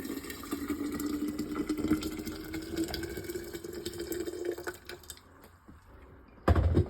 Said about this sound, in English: Add some liquid that you just boiled.